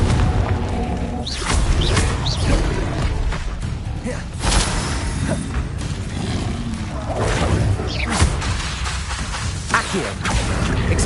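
Spell explosions from Confringo fire in Hogwarts Legacy, a video game, booming repeatedly amid whooshes and crashes over a dense, loud, continuous battle mix with no talk.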